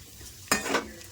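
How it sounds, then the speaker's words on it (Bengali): White cumin seeds, three dried red chillies and two bay leaves drop into hot mustard oil for tempering, setting off a short, sharp sizzling burst that quickly fades back to a quiet hiss. "ফোড়নে দিয়ে দিচ্ছি সাদা জিরে তিনটে শুকনো লঙ্কা দুটো তেজপাতা"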